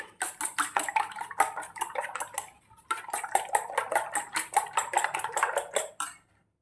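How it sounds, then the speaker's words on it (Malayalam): Eggs whisked with finely chopped half onion in a bowl for an omelette, giving a rapid, steady run of clinking utensil taps against the bowl, close and crisp, with one brief pause midway and no talk. "പിന്നെ കുറച്ച് സവാള ഒരു സവാളയുടെ പകുതി നമ്മൾ ചെറുതായിട്ട് അരിഞ്ഞത് എന്നിട്ട് ശരിക്ക് മിക്സ് ചെയ്യുക"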